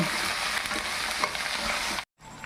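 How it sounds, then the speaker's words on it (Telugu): Green chillies fry in tempering oil for lemon rice, giving a dense close crackling sizzle with faint stirring, which cuts off abruptly and returns as a quieter hiss. "వేసుకొని బాగా కలిపి పచ్చిమిరపకాయలు బాగా వేగాలన్నమాట"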